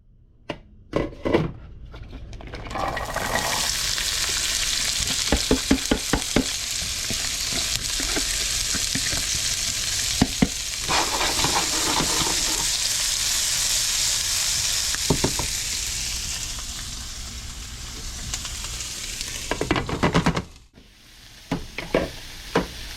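Vegetables sauté in a hot pan over just above medium heat, a loud continuous sizzle broken by repeated knocks and scrapes of a utensil, dropping suddenly to near quiet near the end.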